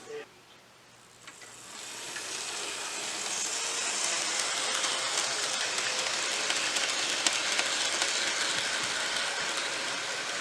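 A Hornby model train, a Class HBA, hauling HEA hopper wagons around a track, giving a steady, close hissing rumble that swells after a quiet start and continues evenly to the end.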